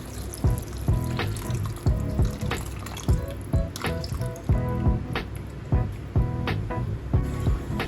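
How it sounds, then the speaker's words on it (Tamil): Tamarind water poured into a pot of curry, a steady liquid splash and trickle with soft clinks and knocks of utensils recurring throughout, close and moderately loud, no talking. "இப்போது நம்ம கரைச்சி வச்சிருந்த புளி தண்ணியை ஆட் பண்ணிடலாம்."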